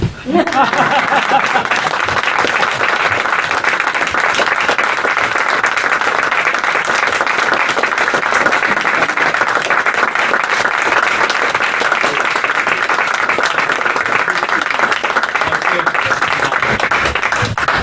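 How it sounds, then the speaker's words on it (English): Loud, sustained audience applause at the close of a stage show, a full even roar of many hands clapping that carries on without letting up. "You can clap."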